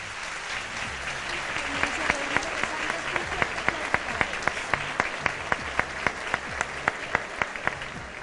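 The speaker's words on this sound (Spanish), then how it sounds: "Un fuerte aplauso para ellos." A theatre audience applauds the arrival of Colombia's president, Juan Manuel Santos, at the Teatro Adolfo Mejía: a continuous wash of clapping that settles into a steady rhythmic beat of sharp, evenly spaced claps.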